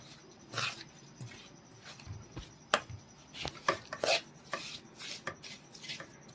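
A spoon scrapes and taps around a bowl as powdered bura sugar is mixed into gram flour for magas. The scrapes and knocks are faint and irregular, spaced apart in a quiet room.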